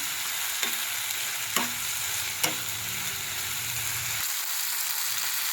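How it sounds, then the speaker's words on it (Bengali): Spice masala frying in a pan, a steady close sizzle with three sharp scraping clacks of a stirring spoon against the metal, the low bubbling stopping abruptly near the end while the hiss continues. "এখনও মশলাটা একটু কষবো আমি, এখনও কষা কমপ্লিট হয়নি।"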